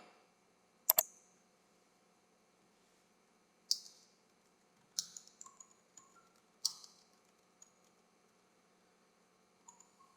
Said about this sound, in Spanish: debéis pulsar de nuevo la tecla bloqueo mayúsculas y se desactivará